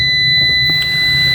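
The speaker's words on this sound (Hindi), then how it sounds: "ये देखें पिन नंबर 5 और पिन नंबर जो 6 है ये बीप कर रही है" A multimeter continuity tester beeps in one steady, loud, high electronic tone between pins 5 and 6 of a TL3120 gate driver in a VFD, with no speech.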